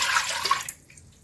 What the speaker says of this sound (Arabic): هنزل بايه ب4 كوبايات حليب.